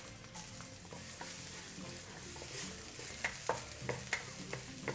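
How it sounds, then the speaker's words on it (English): Chopped garlic and ginger frying in oil for a broccoli and beef stir fry, a steady close sizzle with scattered spatula clinks and scrapes against the pan, no talking. "When the ginger is aromatic, you add in 4 cloves of garlic chopped."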